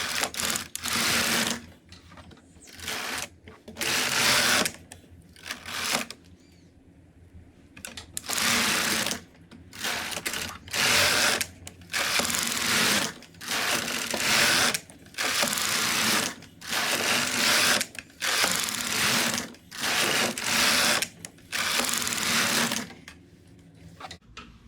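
A domestic knitting machine with a ribber attached, working a wide finishing edge. Its carriage makes loud, close, rattling mechanical sweeps back and forth, roughly a dozen passes in a steady rhythm, each separated by brief pauses.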